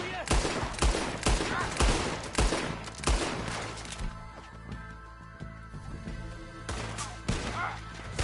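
Gunfire in the Western game Red Dead Redemption 2, a rapid string of loud, close shots in irregular bursts, dropping off briefly before a few more sharp reports return.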